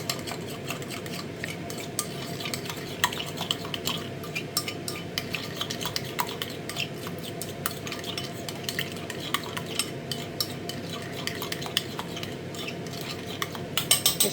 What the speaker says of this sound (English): so I'll give that a stir.